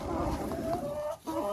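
Old hens clucking inside a henhouse on a cold winter day, a busy overlapping chorus of close, continuous clucks and murmurs with a brief pause near the end.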